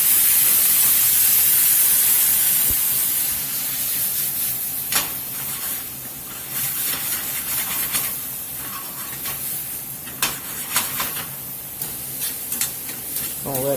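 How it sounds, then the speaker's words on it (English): Marsala cooking wine poured into a hot pan with herbs bursts into a loud hissing sizzle that settles into steady frying crackle with scattered pops and stirring clatter. "I'm going to put a little Marsala cooking wine in"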